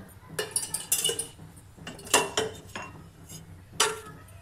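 Metal cookware clanks and scrapes in a few sharp bursts, a kadai wok set down on a stovetop to heat, with clattering knocks between quieter pauses.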